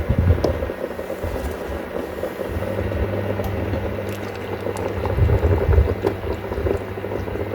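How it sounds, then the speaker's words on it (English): Household ammonia boiling in a pot with old electronics, a steady low bubbling and simmering hiss that stays fairly close and even, swelling slightly near the end. "he said to put a little bit in and boil it"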